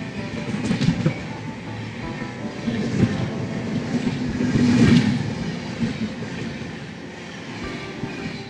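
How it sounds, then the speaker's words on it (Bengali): Inside the running Sealdah–Jalpaiguri Road Humsafar Express, a steady loud rumble of wheels and carriage blends with clattering rail noise and occasional swelling surges. "কিছুক্ষণের মধ্যেই আমাদের ট্রেন ক্রস করবে হাওড়া শতাব্দী এক্সপ্রেসে।"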